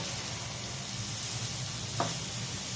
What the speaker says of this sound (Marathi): हे बघा ही पालकची आपण कापलेली भाजी सोडायची कापलेली भाजी सोडायची फिरवायचं थोडा वेळ फिरवायचं